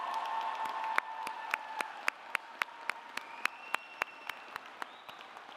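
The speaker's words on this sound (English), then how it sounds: "Graduates, please join in a round of applause for everyone who helped you get here" Sparse, evenly spaced handclaps from a graduation ceremony audience, fairly faint in a large hall, with a steady sustained tone running beneath the claps.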